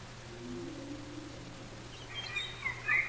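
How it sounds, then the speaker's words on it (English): Faint high chirps and twittering calls rise near the end over a low steady hum, a sped-up whale call sounding like small birds calling at a distance. "If I take a whale and we speed the whale up,"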